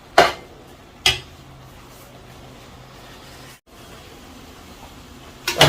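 Carrot halwa cooking down in ghee in a pan, a few sharp metal clanks of a spoon scraping and stirring over a low steady hiss, no talking.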